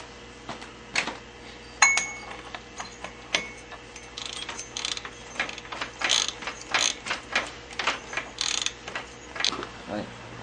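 A ratchet clicks in short bursts while a bolt is torqued, the rear brake holding the part still, close and fairly quiet, with sparse ticking and some faint background noise.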